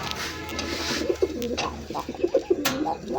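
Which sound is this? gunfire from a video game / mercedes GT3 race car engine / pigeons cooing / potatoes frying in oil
pigeons cooing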